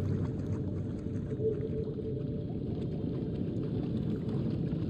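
Bubbling water in the horror game House of Ashes, a dense low gurgling churn that runs unbroken and fairly loud, with a faint muffled ambience above and no talk.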